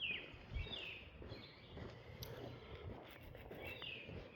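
Several birds call outdoors with short chirps and sweeping whistles at intervals, fairly faint against a steady background of ambient noise.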